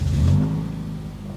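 A car engine catches and runs, a loud low rumble that swells in the first moments, then settles into a steady idle.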